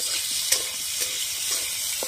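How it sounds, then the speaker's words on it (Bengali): Fish fries in a pan over a brick-and-earth wood fire in a jungle, giving a loud, continuous close sizzle with a few soft clinks. "মাছ ভাজা হয়ে যাচ্ছে।"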